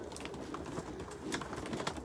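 Racing pigeons coo steadily in their baskets while being loaded for an 80-mile sprint race, a dense, continuous murmur of many birds close by with no voices over it.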